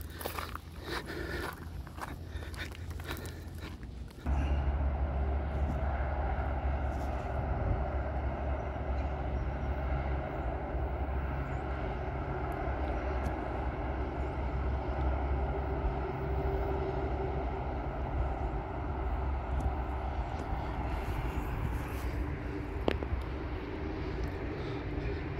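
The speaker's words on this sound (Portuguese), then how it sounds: "Passa o trem aqui por baixo, aqui, ó." A train passes beneath a spot near Aparecida do Norte, a steady loud rumble and roar that starts abruptly and holds for about twenty seconds, with faint squeals near the end.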